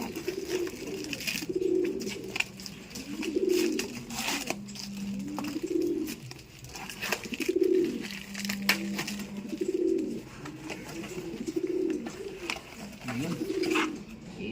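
A blue bar pigeon coos repeatedly in a steady rhythm, soft low calls recurring every couple of seconds, with faint clicks and rustling around it.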